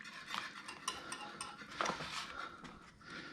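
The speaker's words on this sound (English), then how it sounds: "Just whisk it in so that it incorporates smoothly." A whisk scrapes and taps quickly against a pot as shredded cheese is stirred into béchamel sauce for handmade lasagna, close and fairly quiet, with no talking.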